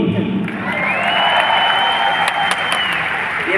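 Audience applause at an anniversary gathering, a dense, steady wash of clapping filling the hall for several seconds with some cheering mixed in.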